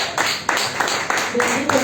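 Church congregation clapping for the Lord, rhythmic strong claps repeating roughly every third of a second, close and fairly loud, with voices mixed in under the clapping.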